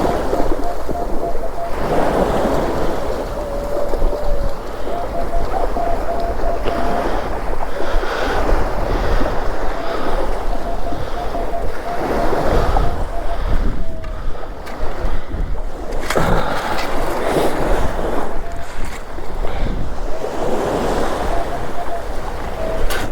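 Strong wind buffets the microphone on Chalkwell Beach beside the sea, a loud continuous roar with gusty surges throughout.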